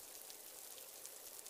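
Steady rain falls all around, a dense even patter of drops on surfaces with no break and no voices, soft and close throughout.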